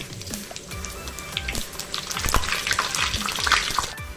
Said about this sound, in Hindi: कढ़ाई में तेल गरम होने के बाद इसमें तड़के के लिए हम डालेंगे तेज पत्ता और जीरा और इसे चलाएंगे